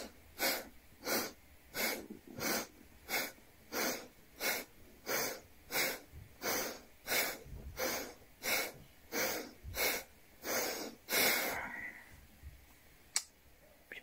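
Slow, deep breaths in a guided Taoist-style meditation, about a dozen even inhale-exhale cycles in a steady rhythm, close and breathy, ending with a longer exhale and quiet.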